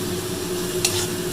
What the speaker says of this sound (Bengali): পেঁয়াজ রসুন সব ভেজে নিচ্ছি